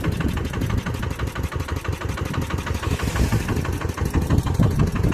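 A Holland tractor's diesel engine runs steadily with a dense, rumbling chug that grows slightly louder toward the end, with no talk over the continuous mechanical noise.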